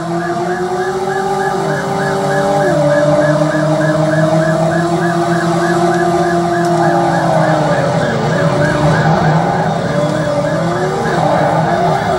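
A wailing police siren from the PlayStation game Driver cycles steadily and close, layered over the droning engines and tyre noise of cars in a chase.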